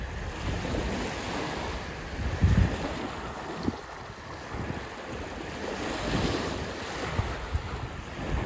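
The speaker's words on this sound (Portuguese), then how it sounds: "E a agitação do mar também gosto." Sea waves roll and break continuously on a shore, loud and steady under heavy wind buffeting the microphone, with no voices.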